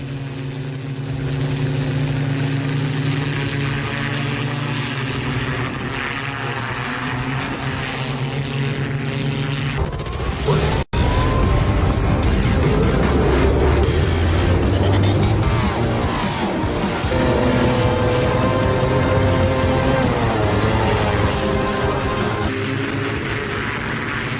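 A police flying bike, or hoverbike, used for training in Dubai, drones loudly in flight with a steady, buzzing propeller roar that shifts in pitch, briefly cutting out midway before resuming and sustaining at close range.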